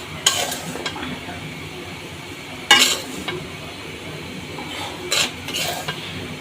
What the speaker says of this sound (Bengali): এখন আমি সুজিগুলো তুলে নিচ্ছি